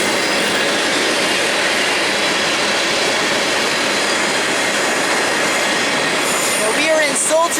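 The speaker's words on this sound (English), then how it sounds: "Train go!" BNSF freight train rolling past close by in Sultan, Washington, with a continuous loud roar of wagons and wheels, and high wheel squeals rising near the end.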